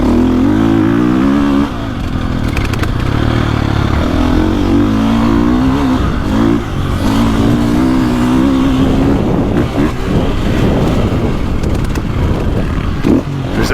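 A 2024.5 KTM 450 Factory Edition motocross bike roars close and loud around the KickIn Roost MX track, its engine revving and dropping continuously through ruts, rollers and jumps, with no voices.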